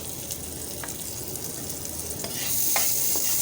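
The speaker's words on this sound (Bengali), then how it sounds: "আলু ভাজার তেলের মধ্যে আমি এগুলো ভেজে নিচ্ছি" Onion and dried chili sizzle in hot oil, a soft steady crackle with a few stirring clicks, growing louder toward the end.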